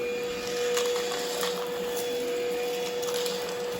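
An Easine by iLife G50 cordless vacuum cleaner runs with a steady motor whine and whooshing airflow, close and constant, with a few soft clacks of debris or the brush on the floor.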